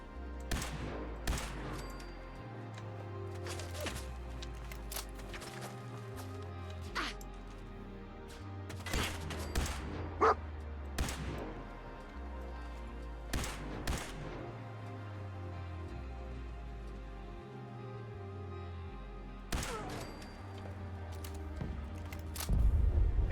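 Exploding pistol gunfire in Fallout, fought around a settlement outpost: about a dozen sharp, loud shots in irregular bursts over a low, steady game soundtrack, with a heavier burst near the end.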